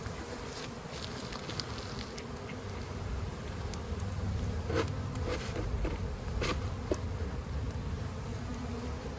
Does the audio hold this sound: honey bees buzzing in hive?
yes